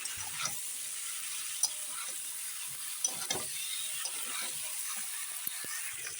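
Cauliflower stir-fried in a pan: a soft steady sizzle with intermittent scraping stirs and occasional clinks of a utensil, close and fairly quiet.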